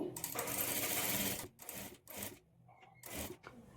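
A sewing machine runs in bursts, stitching piping onto a blouse neckline, with short pauses between runs and fainter handling noises in the gaps.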